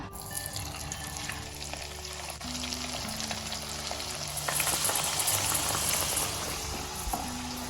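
Dragon chicken pieces dropped into hot oil, a continuous loud bubbling fry with crackling, the roar building midway as a fresh batch goes in, no voices.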